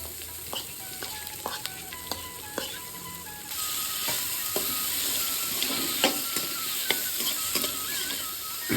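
Mashed raw banana sautés in a hot pan with curry leaves, a steady sizzle under repeated sharp scrapes and taps of a spatula stirring, close and crisp, growing denser partway through.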